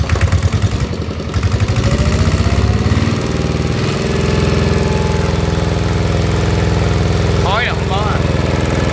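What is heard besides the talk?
Kubota E55 mini excavator engine idling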